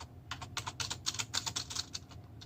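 Rapid typing on a KB-117 wired classic keyboard, a steady run of crisp, close key clicks in irregular quick rhythm over a low background hum, no voices.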